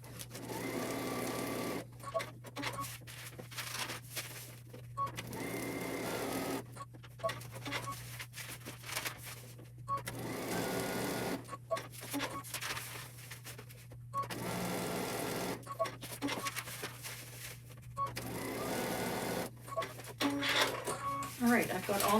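Sewing machine stitching foundation paper-pieced quilt units in repeated short bursts separated by brief pauses, with a person talking between and over the runs.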